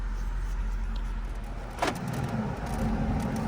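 Jeep Rubicon with a half top driving down a street, giving a steady low engine and road rumble with wind noise and a brief higher whoosh partway through.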